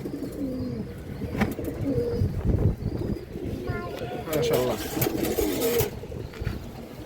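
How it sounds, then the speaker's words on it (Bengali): A red chulli pigeon coos at a bird market stall, soft repeated coos with other birds and crowd noise around it, and someone talks nearby. "খুবই সুন্দর একটা লাল চুল্লি কবুতর"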